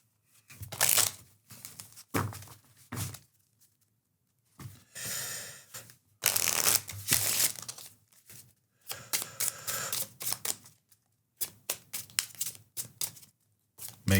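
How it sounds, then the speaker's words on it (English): A deck of playing cards is shuffled on a tabletop during a solo tabletop game session, with repeated riffling bursts and brisk rustles separated by short pauses, close and crisp with no talk. "Make sure this is good and shuffled, dude."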